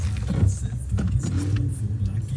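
A Porsche Boxster sports car's engine gives a steady, deep rumble with slight revving. It is heard from inside the car, with voices talking over it.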